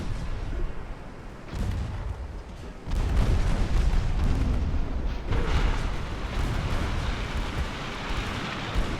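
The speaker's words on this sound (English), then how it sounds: "It was a torpedo hit that got us, though." Torpedo hit on a warship in Ultimate Admiral: Dreadnoughts, heard as a deep booming explosion that swells and rumbles on, loud and sustained beneath layers of battle noise with no talking.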